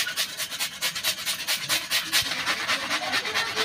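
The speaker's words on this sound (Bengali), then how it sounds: "এই যে দেখুন, এবার আমি আলুটা গ্রেট করে নিচ্ছি।" Raw potato rubbed against a kitchen grater in quick, even rasping strokes, close and fairly loud, with no talk over it.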